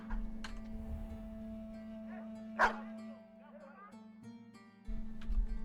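A dog in a video game gives a single short bark in the middle, over a steady hum of game music and low background noise.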